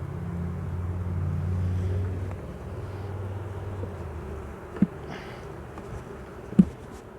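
Honeybees buzz at an open beehive in a low, steady drone that wavers in pitch, with a couple of short sharp knocks near the end and no voices.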